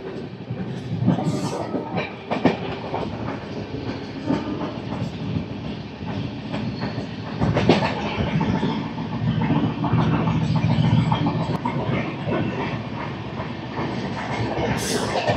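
The Howrah Mail express, train 12840 from Chennai Central to Howrah, rolls along the tracks with a loud, steady rumble and rhythmic clickety-clack of wheels over rail joints, heard from inside a coach.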